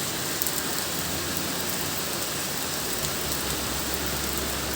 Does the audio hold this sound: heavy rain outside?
yes